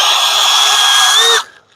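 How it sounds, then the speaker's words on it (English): A power drill whines steadily at high speed while trying to bore through a plastic bumper push tab on a Kia, loud and continuous for over a second before cutting off abruptly. "I can't even drill through it."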